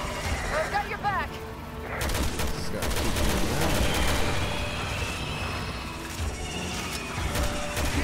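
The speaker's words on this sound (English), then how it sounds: "Keep shooting the big, ugly red spot." Gunfire in the video game Resident Evil 6 during a fight with a large creature, bursts of shots over a dense, booming game soundtrack.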